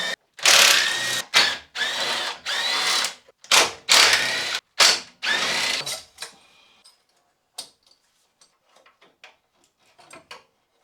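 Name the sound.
tools removing old intercooler from Mazda MX5 Miata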